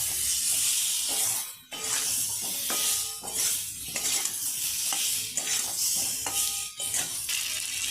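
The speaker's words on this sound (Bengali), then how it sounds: "দিয়ে ভালো করে নাড়াচাড়া করে নেব।" Fish stir-fried in a pan with salt, turmeric, cumin and chili powder sizzles loudly and continuously, broken by repeated scraping strokes of a spatula against the pan. No one speaks.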